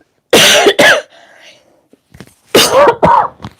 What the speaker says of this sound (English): Sorry, I didn't mean to cough.